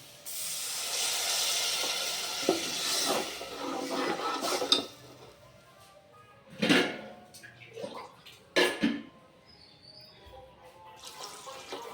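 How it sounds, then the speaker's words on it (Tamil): A loud hiss and steam burst as water is poured into a hot frying pan while cooking vada curry, fading into softer bubbling with a few sharp clinks of utensils. "இப்போ பச்சை வாசனை போயிட்டு தண்ணி ஊற்றிக்கலாம்"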